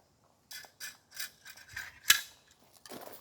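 Parts of a 9mm AR rifle clicking and sliding together during reassembly, a handful of quiet separate metallic clacks and scrapes with one sharper snap, close and faint.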